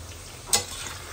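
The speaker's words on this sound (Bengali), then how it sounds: "গোটা রান্নার এখন ভাজাভুজি স্টার্ট হয়ে গেছে" Food frying in a pan during home cooking for a Saraswati puja meal, a steady faint sizzle with one sharp click partway through.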